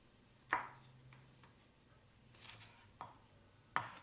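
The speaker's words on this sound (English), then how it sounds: "we're going to cut a red bell pepper" A knife slicing down the sides of a red bell pepper on a cutting board, giving four sharp, separate cuts spaced unevenly, close and fairly quiet, with no talking.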